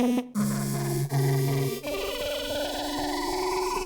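A synthesizer lead with LFO modulation plays bright, buzzy held notes that shift in pitch, ending in a wavering, warbling tone heard alone.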